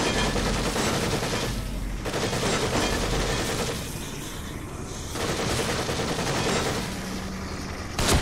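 Rapid bursts of gunfire from an armed enemy in the survival horror game The Evil Within, loud and sustained over a dense, continuous din of game noise with brief lulls.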